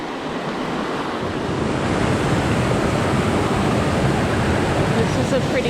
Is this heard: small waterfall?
yes